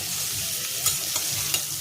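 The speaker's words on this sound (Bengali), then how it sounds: "এতে পটলটাও ভাজা হয়ে যাবে" Pointed gourd frying with salt and spices in a covered pan for an alu potol dalna, giving a steady close sizzle with a few brief scrapes of stirring and no talk.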